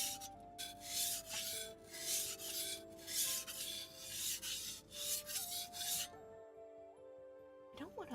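A steel blade rubbed back and forth across a whetstone in steady, rhythmic rasping strokes, close and clear, with a pause near the end before a last scrape.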